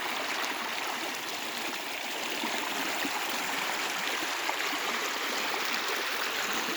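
Swollen farmland river after monsoon rains gurgles and rushes without pause, a dense, even, close-up flow of water with no one speaking.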